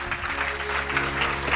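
Applause from a congregation during a Hindi church sermon, a steady broad wash of many hands clapping at moderate level, continuous through the short stretch with no voices.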